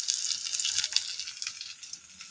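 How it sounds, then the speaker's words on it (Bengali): Papad samosas fry in hot oil with a dense, close, bubbling sizzle that runs throughout and eases slightly toward the end, with no speech. "এবার তেলের মধ্যে যে দিকটা মুড়েছি সেই দিকটাই তেলের মধ্যে দেবো"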